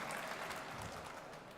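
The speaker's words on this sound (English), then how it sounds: "Give her a big applause" Audience applause fills a conference hall at a startup founders' event, a steady wash of many hands clapping at moderate level throughout, with no voices over it.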